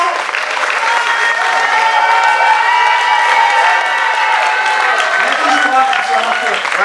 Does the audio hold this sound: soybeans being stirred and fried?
no